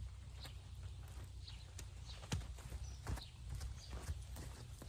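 A young two-year-old mustang walks under a rider, its hooves making a soft, irregular clip-clop rhythm of muffled thuds at close range against quiet outdoor ambience.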